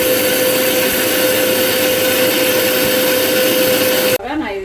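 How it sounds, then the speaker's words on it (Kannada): A mixer grinder powders roasted urad dal with a loud, steady high-pitched whir that runs continuously, then cuts off near the end as a voice begins speaking. "ಈಗ ಇದನ್ನು ನಾನು ಪೌಡ್ರ್ ಮಾಡ್ಕೋತೀನಿ"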